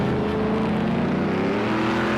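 Group C race car engine at high revs in Project Cars 2 at Algarve, a loud continuous whining drone with a slowly shifting pitch as the car passes, with no speech.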